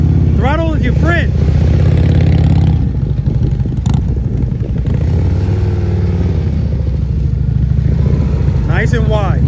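A Harley-Davidson CVO motorcycle engine rumbles loud and near at slow speed, with brief throttle blips rising in pitch, while a voice speaks over it.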